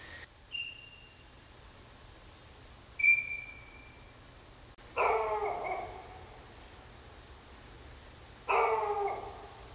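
A neighbor's dog barks outdoors in the dark at night, a few separate bursts of barking at middle distance with high whining yelps in between and quiet pauses.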